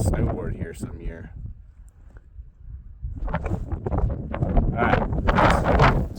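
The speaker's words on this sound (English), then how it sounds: "Alright, it's really windy." Strong gusts of wind buffet the microphone on a snowy mountain pass, a rough roaring rush that drops briefly and then builds louder, with a person's voice partly audible.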